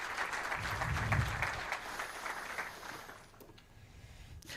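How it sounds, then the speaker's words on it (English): Faint audience applause at a corporate telecom event, a soft steady wash of clapping that thins out after about three seconds. "you deserve a very big round of applause."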